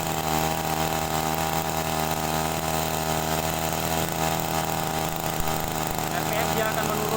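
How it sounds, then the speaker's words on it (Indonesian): A small engine on a crop sprayer runs continuously and loudly close by as its carburetor screw is turned counterclockwise, a steady buzzing drone with a voice talking over it. "Kemudian kita putar berlawanan jarum jam."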